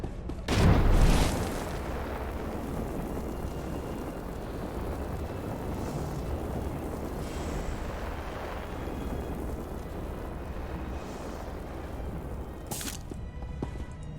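Generators exploding in Star Wars: The Old Republic, a single heavy boom near the start followed by a long, rumbling roar of aftermath that fades slowly, with a sharp crack near the end.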